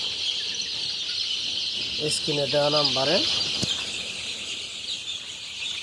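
Chickens at a poultry farm and hatchery, a single brief clucking call rising over constant bird chirping and background hiss, with a voice speaking quietly near the end.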